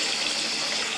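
Tap water runs steadily into a sink, a continuous close hiss and splash with no break.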